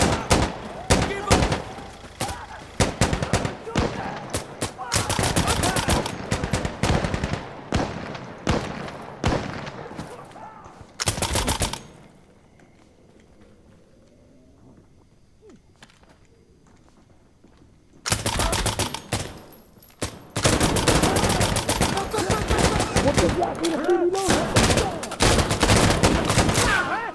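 Rapid gunfire bursts in the video game Insurgency Sandstorm, dense loud volleys that stop for a quiet stretch of several seconds, then resume in heavy sustained firing.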